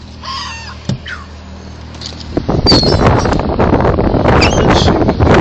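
A crow caws a few times early on, fairly close outdoors, before heavy wind buffeting on the microphone takes over and roars through the rest.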